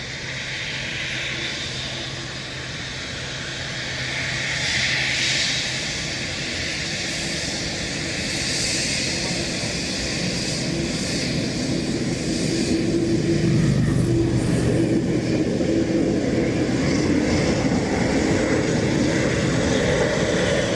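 An airliner departs Dublin Airport, its engine roar loud and continuous, swelling slightly as it climbs away, with no voices.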